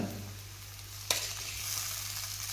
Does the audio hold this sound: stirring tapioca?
yes